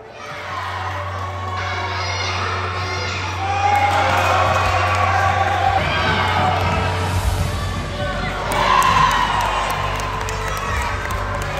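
Crowd cheering at a youth basketball game: a gym full of shouting children and adults, whoops rising in loud swells over steady background chatter and a low hum.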